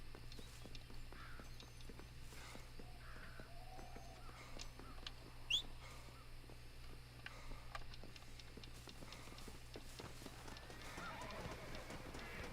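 A horse in the Western video game Red Dead Redemption clip-clops along at a steady walking pace and lets out an occasional neigh, faint and distant over a low constant hum.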